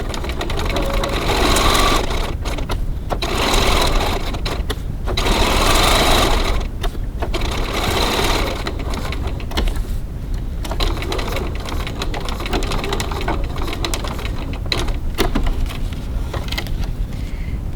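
A sewing machine back stitches along a wallet edge in a close, continuous whirring drone that surges and eases several times, with short back-and-forth bursts and brief lulls.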